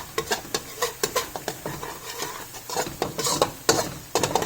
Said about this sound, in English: So we have to make sure we saute as I'm doing